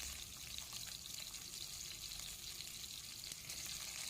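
Chopped onions are added to a hot oil tempering of chana dal, cumin and mustard seeds for an Andhra-style ridge gourd curry. They give a steady, soft, continuous sizzle with no talking.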